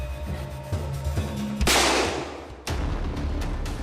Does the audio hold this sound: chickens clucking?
no